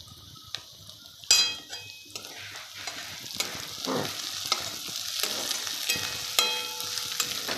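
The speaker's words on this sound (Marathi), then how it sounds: "कढीपत्ता, हिरवी मिरची, कांदा, जिरं, मोहरी याचं मिश्रण भाजायला चालू आहे बघा मस्तपैकी" Curry leaves, green chilli, onion, cumin and mustard seeds frying in a pan for a leftover bhakri dish, with crackling sizzle, a sharp utensil knock and repeated spatula scraping and clinks, close up and without speech.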